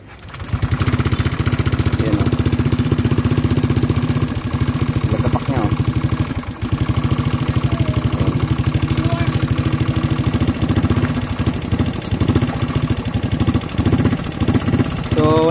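A Honda Click scooter engine idles loudly and close by, a steady rapid putter throughout with occasional revs and voices talking underneath.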